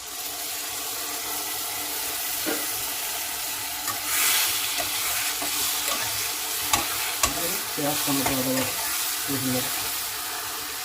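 A ground paste of onion, tomato, ginger, garlic and cashew goes into fried potatoes and onions for a rohu fish egg curry, sizzling steadily while a spatula scrapes and knocks; a brief voice-like murmur rises near the end.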